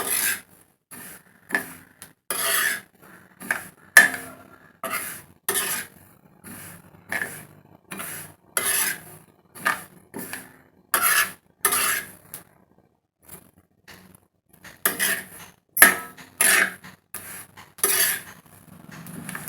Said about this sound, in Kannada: ಈ ಗುರಳನ್ನ ನಾವು ಹುರ್ಕೋಬೇಕು ಹುರಿದು ಮಾಡೋದ್ರಿಂದ ಗುರಳ್ ಚಟ್ನಿ ತುಂಬಾ ಚೆನ್ನಾಗಿರುತ್ತೆ